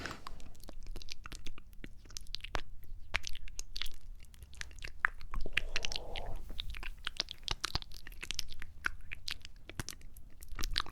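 A mouth imitates crunchy chewing with a steady run of close, crackly clicks and crunches, no words spoken.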